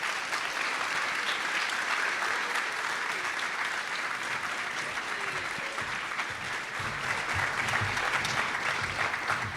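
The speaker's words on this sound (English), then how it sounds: "Let's give our panelists a round of applause" Sustained, even applause from the audience at a panel discussion on homelessness, thanking the panelists; dense clapping of many hands runs unbroken for nearly ten seconds without talk.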